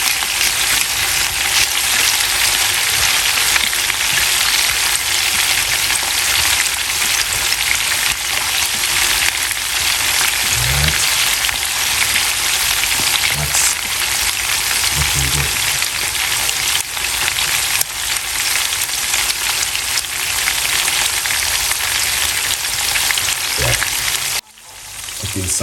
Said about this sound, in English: Cooking salmon this way, you get it perfect.